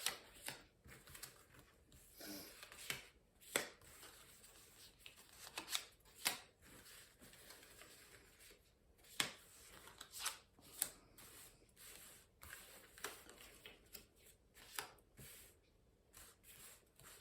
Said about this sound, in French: nous allons faire un tirage en 9 cartes